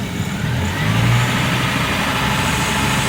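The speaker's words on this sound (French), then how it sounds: "Accélère un petit peu à 2000 tours." Car engine idling and then raised to about 2000 rpm during an alternator charging-circuit check, a steady close mechanical rumble that thickens slightly around the first second and holds even, with no talking.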